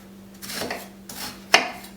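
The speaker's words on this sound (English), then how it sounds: "I'm going to take my knife and just take 4 or 5 slices down" A kitchen knife slicing down through an onion half on a cutting board, a few soft close cuts ending in a sharp tap on the board, with no talk.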